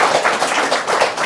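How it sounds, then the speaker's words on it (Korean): A small audience at a live broadcast event claps to welcome a YouTube creator guest, a close, fairly loud patter of hands with uneven swells and no talking. "박수 부탁드립니다."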